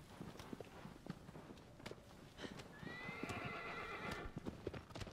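A horse in the video game Shadow of the Colossus clip-clops along at a quick pace, with hoofbeats rhythmic and close, and a neigh rises midway over the continuing footfalls.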